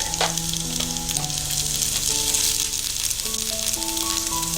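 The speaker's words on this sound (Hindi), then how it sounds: "ऑयल गरम हो गया है। अभी हम इसमें एक कटे हुए लहसुन जो है उसको ऐड करेंगे।" Hot oil sizzles loudly and steadily as chopped garlic and ginger fry, with faint clinks of a utensil against the pan.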